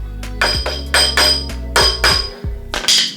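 Five or six loud, close hammer blows ring out at an uneven pace on an axle washer while a Chevy 12 bolt rear axle is rebuilt, each strike with a short metallic ring.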